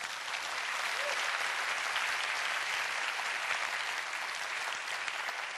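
An audience at a talk breaks into sustained applause, a full, even roar of many hands clapping continuously at a fairly loud level, with no voices standing out.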